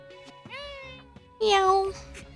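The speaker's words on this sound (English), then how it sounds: "A cat." Two meows from a cat in the visual novel Norn9: Var Commons. The first is a drawn-out mid-pitched cry, the second is louder and brighter, both heard close over faint background music.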